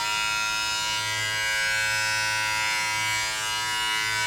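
A JRL Onyx hair clipper runs alone as a steady, close electric buzz with a constant motor hum, no talking over it.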